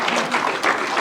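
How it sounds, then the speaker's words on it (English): A summit audience claps for a gentleman, giving a brief burst of dense applause heard throughout at moderate loudness. "let's give him a good round of applause here"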